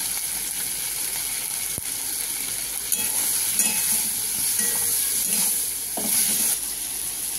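Prawns coated in turmeric and salt fry hard in hot oil, giving a steady close sizzle with brief stirring scrapes and clinks throughout; no one speaks.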